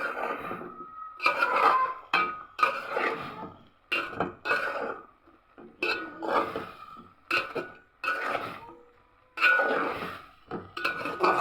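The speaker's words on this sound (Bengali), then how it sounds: "শাকটা ভালো সিদ্ধ হোক, আমি নেড়ে দিচ্ছি।" A utensil stirring radish greens as they cook in a pan, giving scraping clinks and clatters in irregular bursts with short quiet gaps between strokes.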